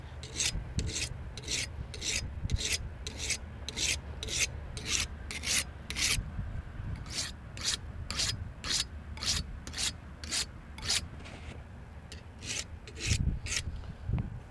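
Knife blade drawn again and again across an old stone whetstone, a steady series of rasping strokes, close and fairly loud, with no voices.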